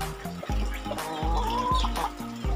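A plump male horen chicken clucks in a coop, with several short throaty clucks coming one after another in a steady, close, fairly quiet rhythm.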